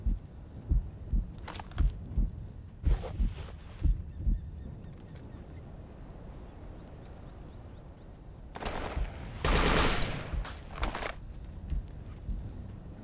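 Bursts of rifle fire in the military shooter Operation Flashpoint: Dragon Rising, with scattered sharp shots early on and a denser, louder volley of suppressive fire near the end, heard at mid distance.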